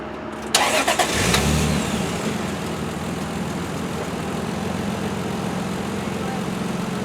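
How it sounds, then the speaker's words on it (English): A 1993 Toyota Supra Twin Turbo engine cranks briefly and fires up with a sharp catch, then settles into a steady, even idle that holds close and loud to the end, with no talking. "I'm going to turn this car on while we're outside. I want to listen to how it sounds."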